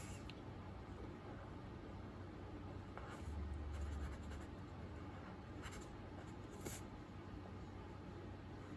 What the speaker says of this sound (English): Don't mind me, I'm just drawing.